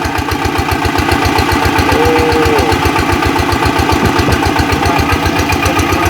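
Engine of a water pump running steadily at a garden home, a loud, close, rhythmic thumping idle that keeps an even beat throughout.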